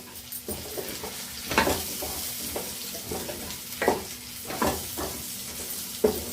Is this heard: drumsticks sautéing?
yes